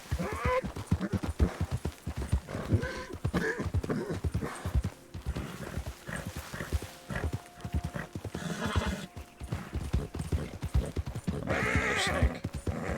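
In a western video game, a horse whinnies several times over a steady clip-clop of hooves, close and fairly loud, with the neighs rising above the rhythmic footfalls.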